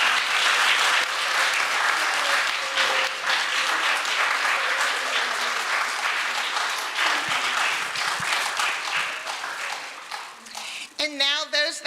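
A church congregation applauds its youth class leaders with long, full clapping that fades in the last seconds, as a voice begins to speak over the tail.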